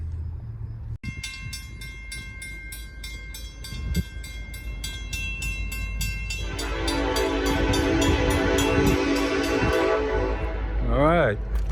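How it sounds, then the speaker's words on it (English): Norfolk Southern westbound freight train rolling loud and close over railroad diamonds, with a long horn chord, steady rumble of cars and wheels that builds midway, a sharp bang near the start and squealing toward the end. "Westbound train, Norfolk Southern."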